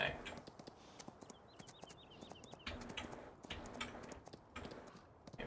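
Rhythmic hoof clip-clops from a horse being ridden on Giants Island in Farming Simulator 19, steady clicking steps alongside birdsong and cooing pigeons in the background.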